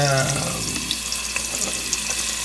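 Onions and chillies frying in a pan for a spicy mutton curry as ginger and garlic go in, a steady broad sizzle with a few soft clinks and stirring sounds, no talking.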